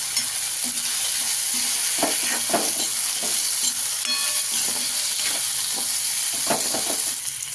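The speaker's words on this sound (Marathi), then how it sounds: "आपण बटर टाकून घेतलेलं आहे थोडंसं हलवून घेऊ आता ह्याला" Potatoes frying in butter and being stirred with turmeric, a constant close sizzle broken by repeated scraping and clinking strokes of the spoon against the pan.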